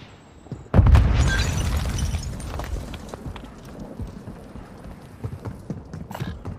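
A grenade blast in the mobile shooter Warzone Mobile bursts in loudly after a brief lull, a heavy low boom that rolls off into a long rumbling tail with scattered smaller pops and clatter.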